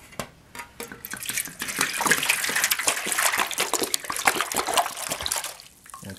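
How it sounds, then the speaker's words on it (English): Green tea is poured from a container into a tank lined with towels, giving a steady, loud splashing gush with crackling droplets that runs for several seconds and tails off at the end, close and without speech. "But we're going to do the green tea now. I'll go ahead and dump this in."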